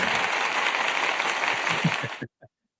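Dense applause, likely a stock sound effect, plays at even loudness for about two seconds, then cuts off abruptly into silence with only a faint, short trailing tail.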